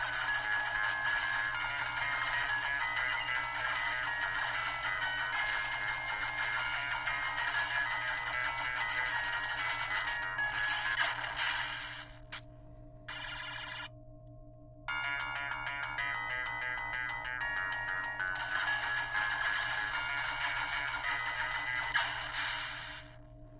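Tinny, bright retro game music and effects from an Anbernic RG503 handheld play steadily and fairly loud, with two brief silent dropouts midway before the sound resumes.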